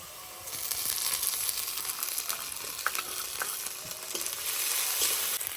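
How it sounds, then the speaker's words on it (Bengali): Onion, crushed ginger, garlic and green chili sizzling in hot oil in a pan, a steady close frying hiss with occasional soft stirring clicks and pops. "এটা ভালো করে ফ্রাই করে নিতে হবে যতক্ষণ না পেঁয়াজ রসুনের গন্ধটা চলে যায়"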